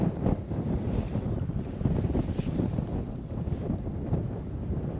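Steady wind buffets the microphone outdoors during winter fly fishing by the water, a continuous loud rushing roar with gusty swells and no voices.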